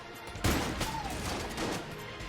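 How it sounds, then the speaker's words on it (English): Dense, continuous gunfire and bursting explosions from the video game Enter the Gungeon fill the clip, loud and layered, with a sharp impact near the start and no talking. "A lot of explosions."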